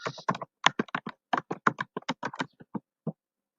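A name is typed on a computer keyboard in a quick, close burst of about twenty crisp key clicks, irregular in rhythm and slowing toward the end, with no talking.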